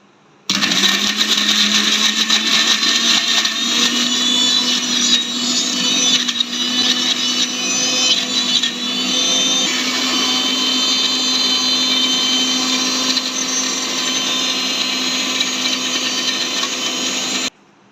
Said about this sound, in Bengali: ব্লেন্ডার করে নিয়েছি আলহামদুলিল্লাহ এখন কিমা হয়ে গেছে